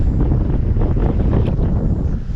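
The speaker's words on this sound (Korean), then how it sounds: "바람이 불어요" Wind blows steadily beside a shallow river during evening fishing for mandarin fish, a loud continuous rumbling gust buffeting the microphone throughout.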